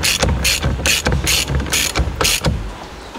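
A ratchet tightening nuts on a Kia Ceed GT-Line car dashboard: six or seven bursts of rapid clicking in an even back-and-forth rhythm, close and fairly loud, with no talk over it.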